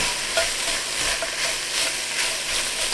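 Diced carrots and onion sizzle steadily in a pot, a close, even crackle of frying with light stirring scrapes and no talking.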